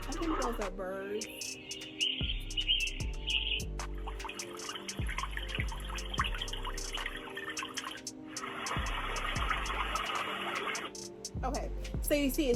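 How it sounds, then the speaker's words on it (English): Artificial birdsong from a white noise machine chirps over a steady bed of dripping water and low sustained tones, playing continuously at moderate volume. "I think those are birds."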